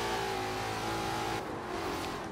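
A Ford Pursuit hoon build in Forza Horizon 3 holds a loud, sustained engine note close up, steady and throaty rather than screaming, with a slight shift partway through.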